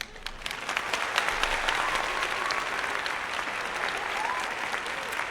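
Applause sound effect fired from a streamer's soundboard: a dense, steady crowd clapping that holds at an even, fairly loud level from start to finish with no talk over it.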